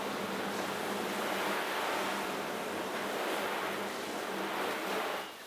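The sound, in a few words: Orbit hose sprayer shower at full flow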